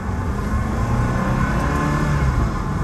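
A 2003 Ferrari 360 Spider engine revving with paddle shifter, a loud, close, continuous roar holding high revs for the whole stretch, with no talk over it.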